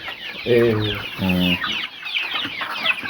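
Chickens clucking close by, two drawn-out calls in quick succession followed by softer scattered clucks and chatter from the flock.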